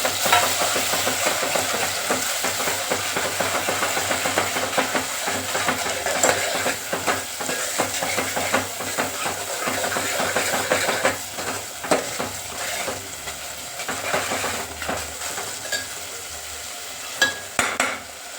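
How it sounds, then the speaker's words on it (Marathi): Ground masala fries in hot oil with curry leaves, a steady close sizzle with occasional stirring scrapes and spoon clinks throughout, no voices. "कढीपत्ता चांगला तळला की आपण तो मसाला जो वाटला तो टाकून घेऊया."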